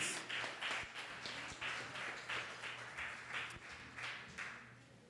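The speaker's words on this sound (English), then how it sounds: "Another round of applause, please." Applause from a graduation ceremony audience for the class of 2021, a steady crowd clapping wash of dense overlapping claps, moderately loud and continuous with slight swells, no speech.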